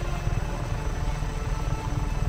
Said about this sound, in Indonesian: Oh, itu helikopternya di Revlo.